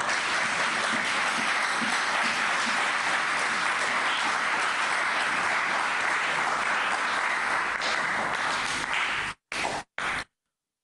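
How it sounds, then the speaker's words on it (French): A hall audience applauds to welcome a pastor onto the stage at a debate event, loud sustained clapping that holds steady for about nine seconds, then cuts off abruptly with a couple of brief bursts. "Sous vos applaudissements, le pasteur Renaud Boris Botha"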